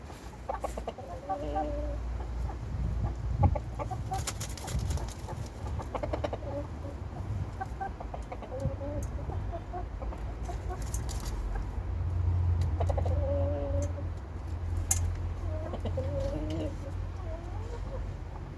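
Hens cluck softly and repeatedly in a farm chicken pen, with brief coos and bird calls over a steady outdoor background rumble.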